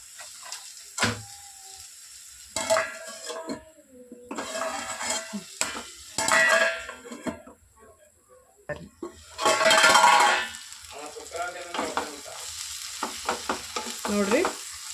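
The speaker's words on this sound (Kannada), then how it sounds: "ಇದು ಎಣ್ಣೆಗೆಲ್ಲ ಚಂದ ಫ್ರೈ ಆಗ್ಯದ" Food frying in oil in a pan for a supper dish to go with chapati and roti, loud and close, with bursts of sizzling, stirring scrapes and pauses between them.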